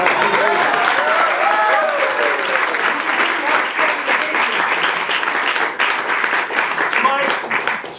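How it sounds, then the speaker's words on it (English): A crowd at a birthday roast gives a sustained round of applause, dense clapping filling the whole stretch at steady loudness, with voices talking and calling out underneath. "I want everyone to give Cheryl Gerstman a round of applause."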